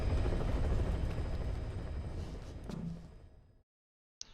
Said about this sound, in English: I really hate the helicopter escape sequence.